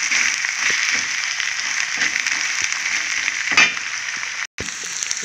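Vegetable pieces frying in a pan sizzle continuously at close range, with small clinks and scrapes of stirring running under the steady hiss.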